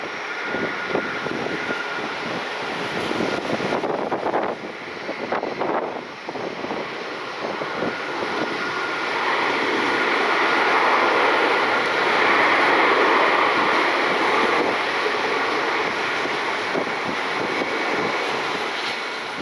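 A United Airlines jet inbound from Chicago arrives on runway 24 left at Cleveland airport, its broad engine roar swelling and holding steady from a distance.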